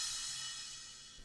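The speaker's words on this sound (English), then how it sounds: "Crash." A crash sound effect for a song production, a bright, hissy cymbal-like wash that fades slowly over about a second.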